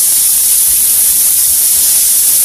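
An airbrush sprays paint in a constant, even, close hiss that runs without a break and has no voices over it.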